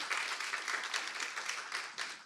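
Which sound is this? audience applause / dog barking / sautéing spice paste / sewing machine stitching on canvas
audience applause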